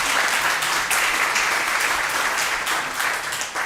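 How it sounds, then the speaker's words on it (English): A congregation at a church meeting breaks into applause, a loud, dense burst of many hands clapping that holds steady and eases slightly at the end. "let's clap for that"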